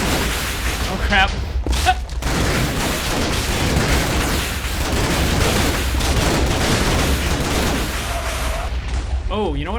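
Rapid gunfire and booming blasts in a modded Minecraft battle, loud and continuous across the scene, with game sounds layered over a voice talking.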